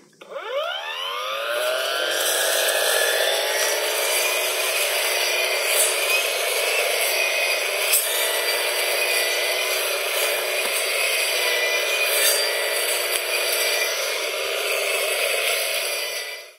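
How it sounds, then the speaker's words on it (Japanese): A steady high-pitched motorized whine of a Koshin cordless brush cutter cutting grass, spinning up and running continuously at close range, with a buzzing, grinding edge. "一回り大きな広い面積のところで刈れる充電式の草刈り機となっております。"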